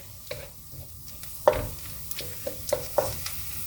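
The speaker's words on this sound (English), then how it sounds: "let's cook that for a few minutes till the onions turn translucent" Onions and spices sizzle in a pan for a vegan Indian spinach curry, a soft steady frying hiss broken by several sharp close clinks and scrapes of stirring.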